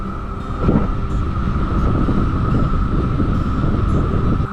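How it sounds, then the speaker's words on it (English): Cicadas buzz in a continuous, steady drone over a low, blustery outdoor rumble in the Great Smoky Mountains, Tennessee, with no voices present. "What you're listening to now is cicadas."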